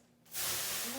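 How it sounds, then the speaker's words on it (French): Water splashed into a hot bread oven flashes into a loud, sudden burst of steam hiss that starts abruptly and holds steady, with a faint hum beneath it and no talking. "je vais jeter le verre d'eau dans le four pour créer de la vapeur"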